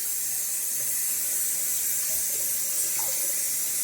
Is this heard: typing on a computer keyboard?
no